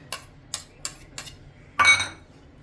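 A spoon clinks four times against a bowl while mixing chopped onion, tomato, coriander and butter, crisp evenly spaced taps followed by a longer scraping stir, close and alone.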